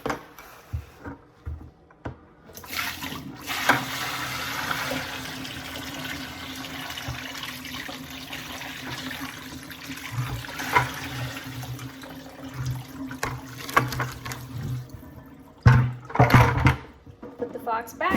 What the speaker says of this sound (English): All I'm gonna do now is dump out the cold water.